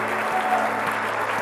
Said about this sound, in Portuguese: uma salva de palmas àquele que tem nos sustentado.